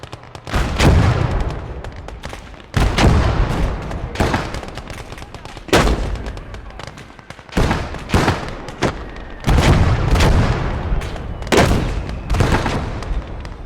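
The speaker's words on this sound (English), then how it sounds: "I'm going to break that up with mortar fire" Mortar fire booms in a video game battle, a series of heavy detonations at irregular intervals, each followed by a rumbling tail, loud and close.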